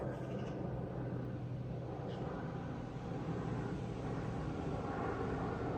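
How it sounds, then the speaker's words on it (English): A broad, steady roar of an airplane passing overhead, rumbling continuously at moderate distance with no voices. "Sorry about the noise, folks, got an airplane crossing."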